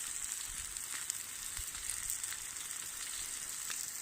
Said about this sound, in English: just throw it all in the fucking pan and stir it up